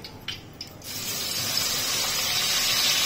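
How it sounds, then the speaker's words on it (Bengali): Ingredients drop into hot oil and break into a loud, steady sizzling hiss that starts after a couple of light clinks and holds to the end. "এখন গরম তেলের মধ্যে দিয়ে দিলাম"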